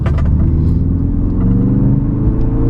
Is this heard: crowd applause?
no